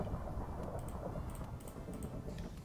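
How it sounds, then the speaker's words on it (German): Low, continuous rumble and hiss of a thunderstorm with steady rain in the Minecraft modpack FTB Infinity Evolved, fairly faint and unbroken, with a few soft keyboard-like clicks on top. "Ich verstehe nicht, warum das Gewitter jedes Mal so laut ist."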